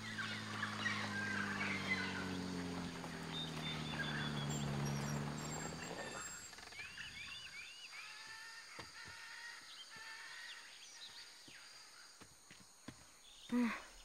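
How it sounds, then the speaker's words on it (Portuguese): Tropical birds in a wildlife reserve call from nearby, with gobbling, throaty bursts at first, then higher chirps and scattered clicks and footsteps over a quieter background. "aquela família de aves tropicais é a nossa mais recente aquisição"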